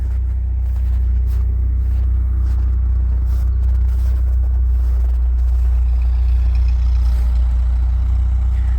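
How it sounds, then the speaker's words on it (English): A 1961 International Scout 80 four-cylinder engine with a muffler idles steadily and close by, a low, even rumble that carries on throughout with no talking over it. "we'll give you guys a listen to the 4-cylinder with the muffler"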